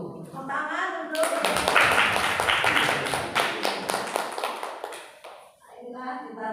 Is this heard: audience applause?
yes